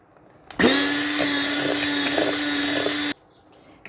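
An electric hand mixer whisks eggs and sugar for a zebra cake, a steady high whirring drone that starts abruptly, holds evenly for about two and a half seconds, then cuts off.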